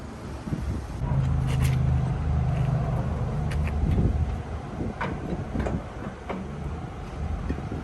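A pickup truck towing a newly bought RV travel trailer on its first drive home, heard as a steady low road rumble with faint rattles and clunks throughout, and no talking.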